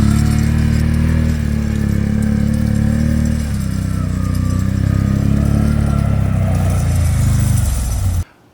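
A 2023 Can-Am Outlander XT850 ATV drags a spiked drag that digs up the ground, its engine droning loud and steady at close range under heavy load before cutting off abruptly at the end.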